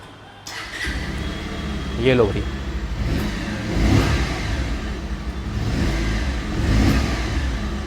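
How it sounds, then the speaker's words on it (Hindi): A 150cc motorcycle engine starts up and idles, then revs in several rising bursts, with someone speaking briefly over it near the start. "अब बाइक को स्टार्ट भी ना साइड बाय साइड इसी पॉइंट पे कर लेते हैं।"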